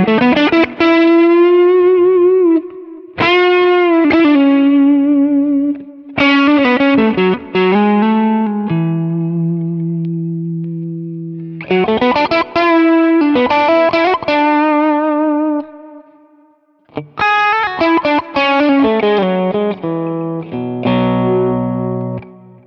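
Electric guitar played through a J.Rockett HRM v2 pedal with the top end boosted: sustained, driven lead notes and bends in repeated phrases, loud and close with brief pauses between runs.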